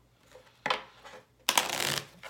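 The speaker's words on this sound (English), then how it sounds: "The Mythos deck has been shuffled." A deck of game cards for a board game is shuffled, two loud riffling bursts close up, a short one then a longer one lasting nearly a second, with no talking.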